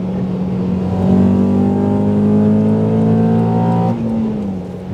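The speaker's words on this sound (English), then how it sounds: "what a sound of the 530i" A BMW 530i engine revs up with a rising, smooth multi-toned howl that holds steady, then drops off as the throttle lifts, close and loud with no talk.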